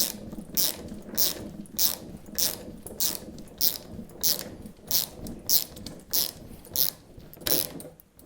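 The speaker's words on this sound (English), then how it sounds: "For this we have a 5mm Allen key or hex and a 13mm socket." A 13mm socket ratchet working a nut on a Polaris Ranger 1000 during a rear window install, with about a dozen rhythmic clicking bursts from the pawl, close and clear, with no talk.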